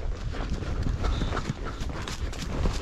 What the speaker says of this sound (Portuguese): o Zeus vai ficar um cavalo muito bom de serviço